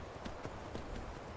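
Hooves of a horse in The Elder Scrolls: Skyrim clop along in a quick, regular rhythm, soft and slightly distant over a low game ambience.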